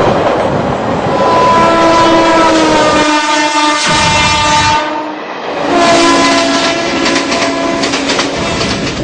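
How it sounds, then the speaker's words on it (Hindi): A double-decker passenger train in India runs loudly past, wheels clattering steadily on the rails while its horn sounds in long tonal blasts, briefly dipping before resuming. "बिल्कुल रजत, इस ट्रेन में जो है बहुत अच्छी ट्रेन है, बहुत सारी सुविधाएं हैं, डबल डेकर ट्रेन है"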